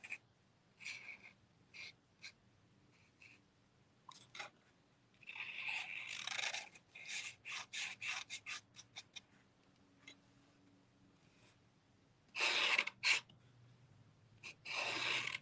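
Short scratchy strokes of a Posca paint pen drawing on a painted wood panel, coming in quick bursts with quiet pauses between them, close up and fairly soft.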